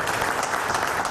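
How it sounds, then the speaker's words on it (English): AT&T workers applaud a jobs announcement, a dense, steady burst of clapping from a crowd indoors, loud and continuous throughout. "AT&T workers applaud the announcement of almost 100 new jobs in Kansas"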